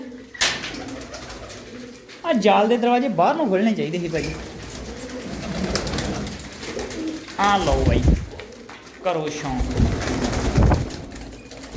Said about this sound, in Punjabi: ਬਹੁਤ ਸੋਹਣੇ ਸੋਹਣੇ ਕਬੂਤਰ ਆ